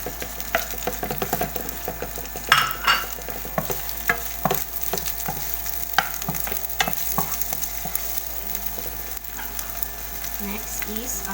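Onion sautéing in oil in a pan, a soft continuous sizzle punctuated by repeated scraping and clicking stirs, close and moderately loud, with no talking.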